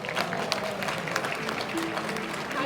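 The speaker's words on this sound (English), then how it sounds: "Let us welcome our Student of the Year with a big round of applause." Audience applause at a graduation ceremony welcoming the Student of the Year, a steady dense patter of clapping throughout, moderately loud and even.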